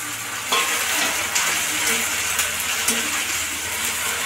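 Tomato pieces and curry leaves fry in a pan for bitter gourd fry, a continuous bright sizzle punctuated by a few sharp stirring knocks, close and with no speech.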